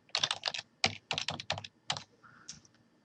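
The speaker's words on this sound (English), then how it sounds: "we're going to type in David's name up here" Quick bursts of typing on a computer keyboard as a person's name is entered, with several clustered runs of crisp key clicks separated by short pauses, close and clear with no talking.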